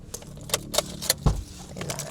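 Keys to a condo unit jangling close up in a short metallic shake, several bright clinks and one heavier knock, with a faint car rumble behind and no talk.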